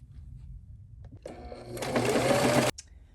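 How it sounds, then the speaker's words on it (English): A sewing machine top stitches an AirPod holder in a short burst that speeds up over about a second and then stops sharply, preceded by quiet handling noise. "So on with the top stitching."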